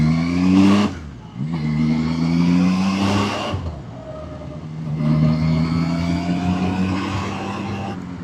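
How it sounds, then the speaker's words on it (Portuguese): A Zontes 703 RR three-cylinder motorcycle revs loudly through rising gear pulls, engine pitch climbing in steady sweeps with brief drops between shifts, close and dominant with no talking. "As tricilíndricas nunca decepcionam a nível de barulho"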